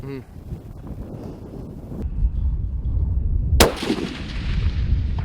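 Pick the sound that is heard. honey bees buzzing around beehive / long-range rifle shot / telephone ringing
long-range rifle shot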